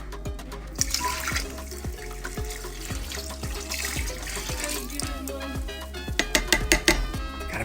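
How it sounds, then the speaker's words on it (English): Apple cider with the mother poured into a pot for ghost pepper and habanero jelly: a continuous close liquid stream splashing, with sharp clinks and splashes bunching toward the end. "Making our jelly with apple cider. With the mother. The mother. Here comes the cider."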